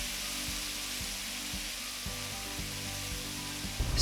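Pork ribs and sautéed shallots sizzle gently in oil in a pot, a soft, steady frying hiss at low volume with faint rhythmic ticking underneath and a small clatter at the very end.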